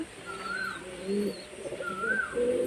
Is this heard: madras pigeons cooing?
yes